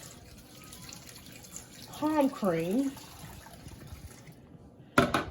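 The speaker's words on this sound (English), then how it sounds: "take some hot water and pour over your" Hot water poured over palm cream while cooking palm nut soup, a steady liquid pour running underneath brief speech.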